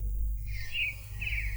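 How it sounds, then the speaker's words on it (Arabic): A short sound-effect track of sparrows chirping plays on its own, with a few bright, thin tweets over a steady low background hum. "ده صوت العصافير"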